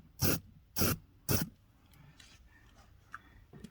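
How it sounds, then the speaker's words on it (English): Liquid Wrench penetrating oil sprayed onto a rusty seat belt bolt in the back seat of a Nissan R50 Pathfinder, heard as three short, close hissing bursts in quick succession, followed by faint ticks and handling noises. "Here we have our friend Mr. Liquid Wrench. Just gonna spray some of that in there."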